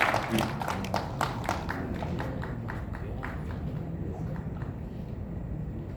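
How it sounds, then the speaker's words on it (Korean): An audience at a Korean religious gathering claps, with a burst of distinct individual claps fading into a softer, thinning patter over a low background rumble. "박수 한번 크게 쳐주시기 바랍니다"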